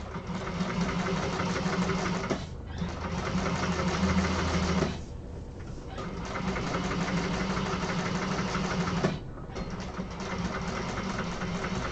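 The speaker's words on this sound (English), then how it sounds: "pushing that seam nice and tight" A sewing machine runs steadily while stitching a seam on an apothecary project, a continuous close mechanical whir broken by two short pauses.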